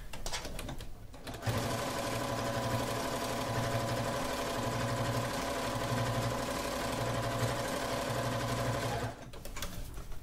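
A sewing machine stitches the binding on a minky baby quilt, running steadily for several seconds with a close, even mechanical whir and rapid needle chatter that starts and stops abruptly.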